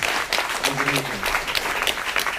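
Audience applause follows a presentation, a burst of mixed clapping with a faint voice briefly heard underneath, fairly close and lively.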